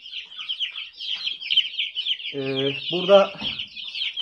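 Chickens cluck repeatedly during feeding on a farm, with a rooster's harmonic call rising out of steady high-pitched chatter and a voice speaking briefly.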